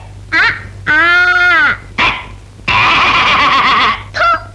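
A voice imitates a sheep's bleat with a few short, wavering cries, loud and close, separated by brief gaps, in a Kannada film comedy scene.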